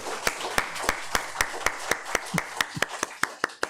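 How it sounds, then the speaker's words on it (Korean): A church congregation gives rhythmic, scattered applause at a Sunday worship service, with steady hand claps in a room, moderately close, and no speech over them. "서로 축복하며 박수 한번 쳐드리면 좋겠습니다"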